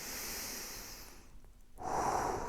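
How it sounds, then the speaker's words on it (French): A deep breath is taken during a calm seated meditation: a long, soft airy inhale that fades, a short pause, then a fuller breath, close and quiet with no talking. "Tu prends une grande respiration"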